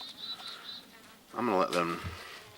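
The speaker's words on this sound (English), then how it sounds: "oh, there's bees down there." A steady buzzing hum of bees, faint and fairly close, runs through the clip before a voice briefly speaks over it.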